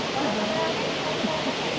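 Tumpak Sewu waterfall roaring as a broad, steady rush of falling water, with a person talking over it.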